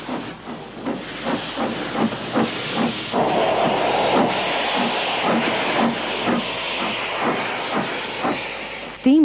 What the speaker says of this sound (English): An alternative to flying, or climbing, is to go on the small steam railway